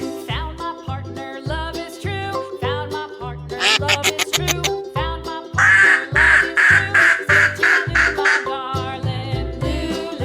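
Duck quacking over a bouncy children's song with a steady beat, the quacks coming in repeated bursts that stand out loudly above the music.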